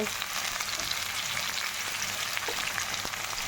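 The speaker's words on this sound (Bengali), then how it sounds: "এখন এর মধ্যে আমি পেঁয়াজটা দিয়ে নেব" Sliced onions fry in hot oil in a pan for a chicken kosha, a steady, crackling sizzle at close range with faint stirring scrapes and no talking.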